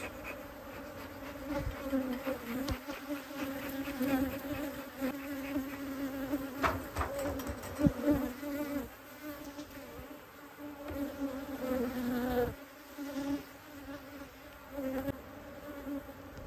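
Honey bees swarm thickly around an open hive during spring beekeeping in the Texas Hill Country, a dense continuous buzzing close by with individual bees droning past, no talk.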